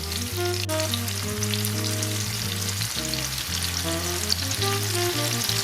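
Shrimp frying over high heat in a thin drizzle of olive oil, a continuous soft sizzle heard alongside steady tonal background music, with no talking.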